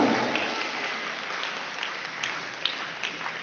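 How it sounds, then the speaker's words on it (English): A school assembly audience claps in a sustained round of applause that gradually settles, dense and steady with a few sharper claps standing out. "Please give a huge round of applause."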